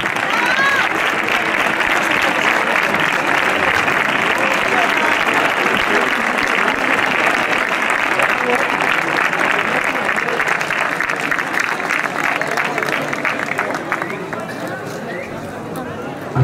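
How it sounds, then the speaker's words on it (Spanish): Crowd applause at a bull event in Moncada, Valencia: a long, loud, sustained wall of clapping from many people, mixed with some crowd voices, holding steady before easing slightly at the end. "fuerte el aplauso, un gran homenaje para él"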